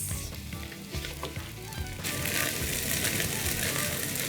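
Rice with sauce and spices sizzles loudly in a hot pan while being stirred, the frying hiss growing fuller partway through, with a voice speaking over it.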